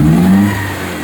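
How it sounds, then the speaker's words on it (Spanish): A Corsa Win 1.6 car engine, just repaired and under an oil pressure check, revs loud and close for a second, its drone rising and then easing back toward a steady hum. "Suelta y acelera."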